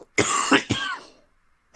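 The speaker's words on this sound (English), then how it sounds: "And I also was coughing." A person coughs and clears their throat up close, two or three rough bursts in quick succession, then a short pause before another starts.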